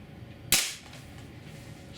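A single sharp air rifle shot at a chronograph, a Daisy spring-piston gun, cracks once loud and close, then fades out with no talk.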